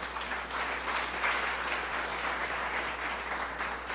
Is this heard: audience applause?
yes